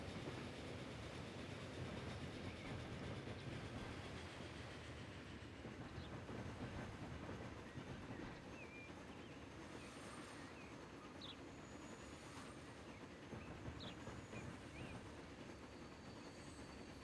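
A train rolls past in the railway simulation game Transport Fever, with steady wheel rumble and rhythmic clickety-clack on the rails, faint and continuous, with occasional high squeals.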